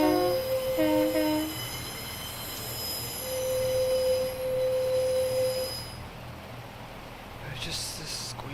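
Train wheels squealing in a train simulator game, with long steady high-pitched screeches and tones over a low rumble that fades out near the end, a voice talking over part of it.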